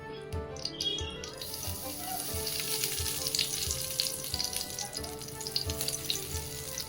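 Fennel seeds fry in hot oil, a dense crackling sizzle building after a quieter start, with birds chirping in the background.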